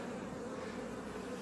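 A swarm of honeybees clustered on hive frames in a garden, a dense, steady close-up buzzing that hums continuously without pause.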